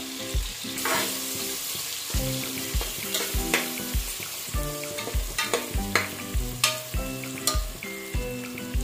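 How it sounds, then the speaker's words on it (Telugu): Ginger garlic paste fries in a pan with a constant sizzle, broken by repeated scraping strokes of a spoon stirring it while cooking for soya chunks biryani. The sound is close and steady, and no one speaks. "అల్లం వెల్లుల్లి ముందే ఇలా ఫ్రై చేసుకోవాలండి"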